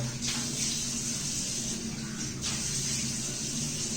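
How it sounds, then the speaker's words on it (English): Water running steadily from a bathroom sink tap while a face is rinsed, a soft continuous hiss and splash with faint shifts in the flow. "wash your face and rinse it off"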